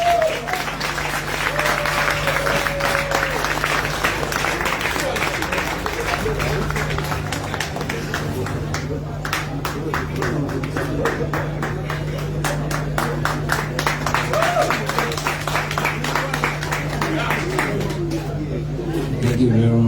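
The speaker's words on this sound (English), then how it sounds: "I ask you to welcome him with a large applause." A large audience of delegates in Senegal applauds to welcome Bobi Wine: loud, sustained clapping with distinct individual claps, and crowd voices and chatter heard mixed in throughout.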